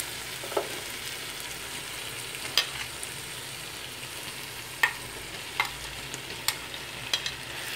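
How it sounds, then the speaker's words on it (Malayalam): Tomatoes and green chillies sautéing with onions in a pan for Kerala-style mutton curry, a steady close sizzle broken by sharp spoon clicks and stirs at irregular intervals, no voices. "ഇനി നമ്മൾ അതിനകത്തോട്ട് തക്കാളിയും പച്ചമുളകും ഇടും"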